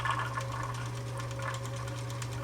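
A Kenmore Sears 148.14220 sewing machine winding a bobbin hums steadily at close range with a constant whir and light mechanical ticking, running without pause and with no one speaking.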